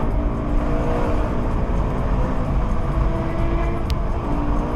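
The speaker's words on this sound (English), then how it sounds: "look at how high revving the car is" A BMW M3 engine revs hard and high, a steady, loud, continuous drone with a whirring edge and no pauses.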